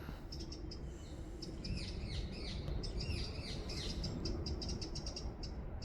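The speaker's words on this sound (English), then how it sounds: "Pretty little birds." Several small birds chirp and tweet in quick, overlapping bursts outdoors near a path where sheep graze, the calls bright and fairly close over a steady low rustle of wind and background noise.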